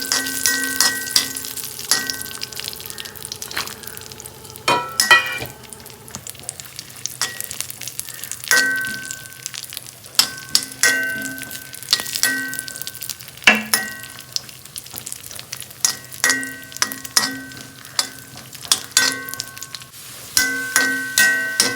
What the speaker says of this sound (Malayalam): അണ്ടിപ്പരിപ്പൊന്ന് മൂത്ത് വന്നു കഴിയുമ്പോൾ നമുക്ക് ഈ കിസ്മിസ് കൂടി കൊണ്ടിടാം.